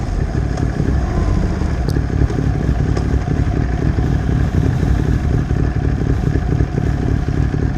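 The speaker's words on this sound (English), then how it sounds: "The wind is horrendous right now." Strong wind blowing hard, a loud continuous rumbling roar buffeting close by without letup, with faint clattering now and then and no talking.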